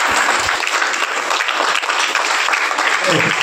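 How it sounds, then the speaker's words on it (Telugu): Schoolchildren at a government school clap together in thanks for donated shoes, a dense, steady round of applause lasting throughout, loud and close with no talking over it. "ఆ సారు ఇచ్చినందుకు వారికి కృతజ్ఞతగా మీరు అందరూ చప్పట్లు కొట్టండి"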